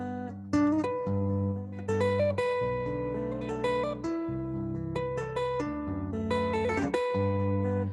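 A Chapman Stick plays a flowing melody with chords, warm and somewhat muted, with a soft, rounded, duller tone and no talking.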